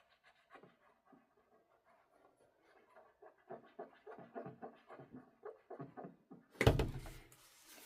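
A Q-tip scrubs paint off an RC car body in close, soft, rhythmic rubbing strokes that grow firmer as they go, ending with a louder thump or handling noise near the close.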